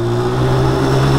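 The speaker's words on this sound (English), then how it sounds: "If you're racing, you're gonna wind that gear out to the very end" An ATV or dirt bike engine held at high revs to the top of its gear, a steady, loud, strained mechanical whine with no talking over it.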